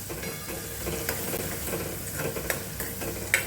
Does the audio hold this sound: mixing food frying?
yes